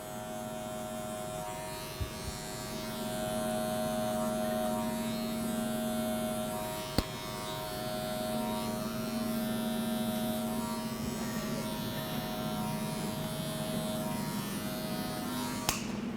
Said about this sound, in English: Now that I am done with all of my clipper work